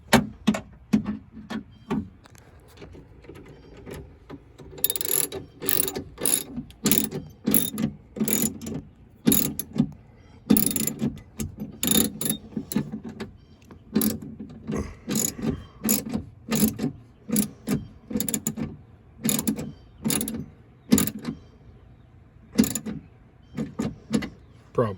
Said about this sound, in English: Orientate my wrench the right way.